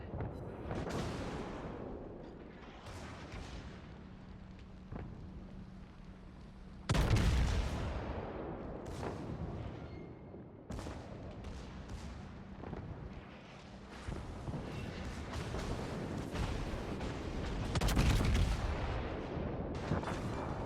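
Heavy naval gunfire from warships, including a battleship and the Scharnhorst, in the game World of Warships: repeated deep booming salvos and rumbling explosions, loud and close, rolling over one another throughout.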